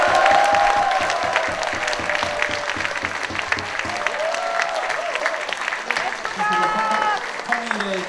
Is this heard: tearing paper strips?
no